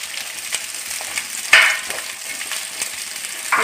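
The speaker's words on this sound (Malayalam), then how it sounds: "നമ്മൾ എടുത്തു വെച്ചിരിക്കുന്ന കഴുകി അരിഞ്ഞു വെച്ചിരിക്കുന്ന നെല്ലിക്ക ചേർക്കാം" Chopped large gooseberries hit hot sesame oil in a pan while pickle is being made; a constant crackling sizzle with a sharp burst as they drop in, plus faint stirring clicks, with no talk.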